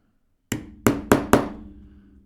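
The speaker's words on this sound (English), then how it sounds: "Hammer right the way through this." An awl hammered through handbag material for stitching holes, four sharp, loud, close strikes in quick succession after a moment of silence, each ringing briefly before fading.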